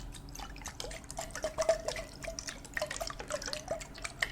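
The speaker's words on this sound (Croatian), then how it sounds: "Imamo običnu malu teglicu, staklenu, i unutra je voda." Water sloshes and trickles in a small glass jar, with soft drips and light clinks close by, fairly quiet and steady.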